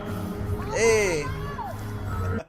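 A concert crowd yells and screams in a big rising whoop, loud and close, then the noise stays as a steady crowd din and cuts off abruptly.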